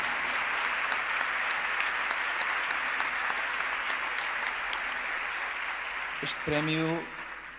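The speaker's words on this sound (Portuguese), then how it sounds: "uma salva de palmas a todos vocês por valorizarem também a música portuguesa" A gala audience applauds a music award in dense, sustained clapping that rolls on for several seconds before a voice begins speaking and the applause fades out.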